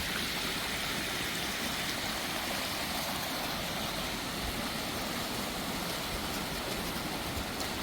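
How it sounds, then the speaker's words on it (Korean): Water rushes and splashes steadily nearby, a constant full flow from a garden stream and fountain in an apartment complex courtyard, with no pauses. "물소리가 너무 좋습니다."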